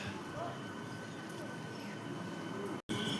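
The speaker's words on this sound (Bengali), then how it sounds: "এটা হচ্ছে মেমো ট্রেন। এই ট্রেনটা কিন্তু নতুন দিয়েছে।" A new MEMU train pulls into a station with a steady, loud rumble of wheels and carriages that fills the whole clip, broken by a brief dropout near the end.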